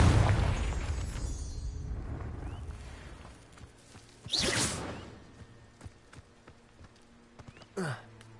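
Confringo, the fiery explosion spell in the PS5 game Hogwarts Legacy, opens with a loud booming blast that rumbles and slowly fades, followed by two sharp whooshing bursts a few seconds apart, with no talking over it.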